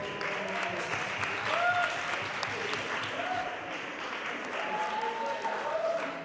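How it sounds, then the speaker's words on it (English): Audience at a student election hustings applauding the candidates, sustained clapping lasting several seconds with a faint murmur of voices underneath. "So can you give them a quick round of applause?"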